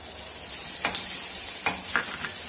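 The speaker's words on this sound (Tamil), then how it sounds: "இஞ்சி பூண்டை போட்டு நல்லா பச்சை வாசனை போகிற வரை வதக்கிட்டு" Ginger and garlic sautéing in a pan with onion, a soft steady sizzle broken by a few quick scrapes and taps of a spoon stirring, close and moderately quiet.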